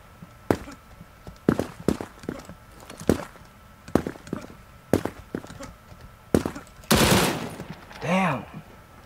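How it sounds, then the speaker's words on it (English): Bursts of gunfire from the online shooter game Krunker.io, rapid volleys and single shots in uneven clusters, fairly loud and close, with a longer burst near the end. "I hear bullets."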